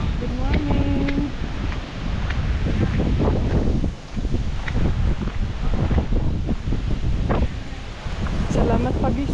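Strong wind in Bali buffets the microphone with a loud, continuous roar and gusty rushes, joined by a brief voice and rustling.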